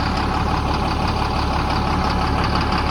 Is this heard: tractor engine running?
yes